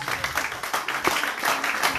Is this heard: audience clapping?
yes